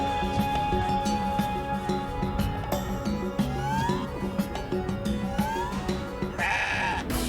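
Goats bleat repeatedly in the video game CrossCode, mixed with game music, clinks and combat effects in a busy, steady soundscape.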